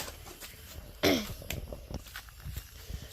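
A single sharp cough bursts out close by, loud against quiet outdoor background with faint scuffs and rustles before and after.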